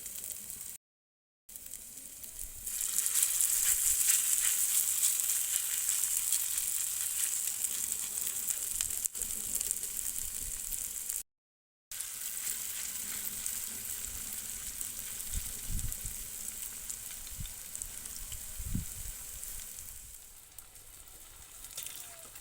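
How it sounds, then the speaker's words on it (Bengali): Potato and flour snack pieces fry in hot oil in a wok, giving a continuous loud sizzle that rises as they go in and holds steady, with a couple of brief dropouts and faint utensil taps late on. "এবার আমি ভেজে নেব"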